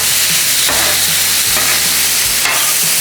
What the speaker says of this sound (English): Let's mix all that in.